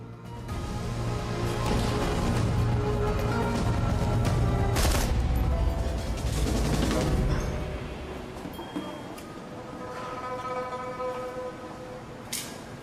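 Shotgun blasts and grenade launcher explosions in the cyberpunk tactical game Shadowrun Returns: Hong Kong, a dense loud barrage of booms and shots for several seconds that thins out into quieter game ambience and music.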